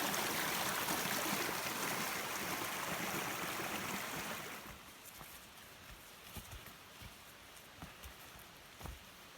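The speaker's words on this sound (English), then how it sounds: "This is the Wild River." Wild River in a wilderness area, a broad stream flowing steadily over rocks, loud and close for the first half before fading to a quieter, distant wash with a few light knocks and steps.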